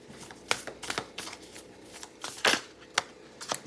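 A deck of tarot cards is shuffled by hand, close and crisp, with repeated riffling bursts and soft slaps in an uneven rhythm.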